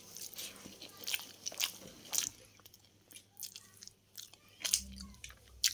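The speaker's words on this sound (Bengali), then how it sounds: "এবার খাই দেখি চিকেন দিয়ে" Rice mixed with chicken curry and onion being eaten by hand, with soft close chewing, squishing and occasional crunchy bites in irregular bursts over quiet background.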